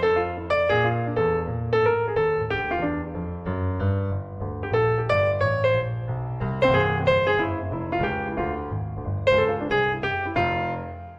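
Solo piano improvising, with short melodic phrases over a steady left-hand bass, played clearly and at moderate volume with brief gaps between the ideas.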